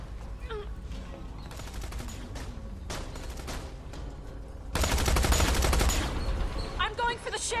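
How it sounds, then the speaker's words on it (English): Bursts of rapid gunfire in the Tales From The Borderlands video game, building to a dense, loud volley near the end, mixed with game voices and effects. "August! Shoot the crap out of all of them."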